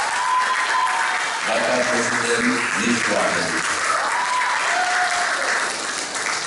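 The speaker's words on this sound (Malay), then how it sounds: "berikan tepukan kepada bakal jutawan kita" Audience applause at a motivational stage event, steady dense clapping throughout with a host speaking over it near the start.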